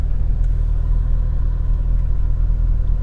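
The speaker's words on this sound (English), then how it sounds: "And here comes the Benz right in front of us." A 2001 Mercedes S600 with a V12 engine rumbles close by as it arrives, a steady deep low drone with no speech over it.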